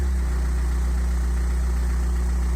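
A Ford Fusion 1.4 TDCi diesel engine fed with hydrogen idles steadily, a loud, close, low rumble with constant vibration and no talking.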